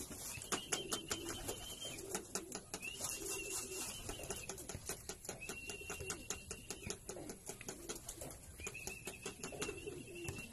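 Racing pigeons arrive back at the loft at the end of a race, with repeated wing flaps and fluttering through quiet outdoor background, some faint soft coos, and no talk.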